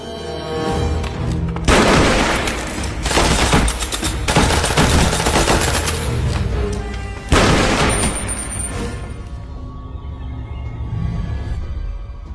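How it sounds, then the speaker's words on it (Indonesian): Gunfight in an action film, loud sustained bursts of machine gun fire with heavy booms, coming in several intense volleys and then trailing off. "Ketika di dalam, nampak Nomad yang sudah siap untuk menyerang dan terjadilah aksi tembak-tembakan."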